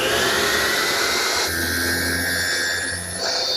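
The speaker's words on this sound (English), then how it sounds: "all I'm using is a 1/8 inch diameter beading bit" A router fitted with a 1/8 inch beading bit runs steadily as it rounds over a wood edge for a drawer chest, a loud continuous high whine with a slight pitch shift midway and no talking.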